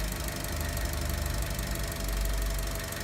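A car engine runs steadily at raised RPM during a battery charging load test, giving a continuous close, loud hum with a rough, knocking undertone throughout and no talk.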